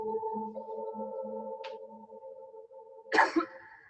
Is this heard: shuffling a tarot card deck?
no